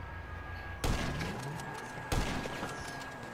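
Two sniper rifle shots crack out in a GTA 5 Online match, each a sharp loud burst with a short tail, about a second apart, with no talking over them.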